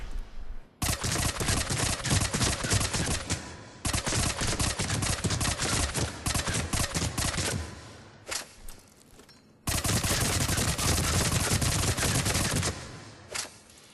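Tempest SMG gunfire in Mass Effect 3, loud sustained automatic bursts at short range, three long volleys separated by brief pauses, with rapid-fire crackle dominating throughout.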